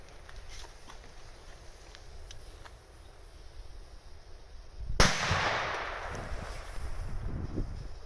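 A powerful New Year's Eve firecracker goes off with one sharp, loud blast partway through, followed by a rumbling tail of lingering noise, after quieter distant crackling outdoors.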